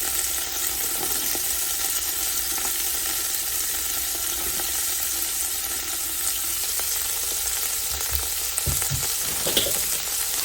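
Chopped onion, carrots and celery sizzling in a soup pot, a constant bright frying hiss with occasional stirring scrapes and small pops, close and steady, no voices.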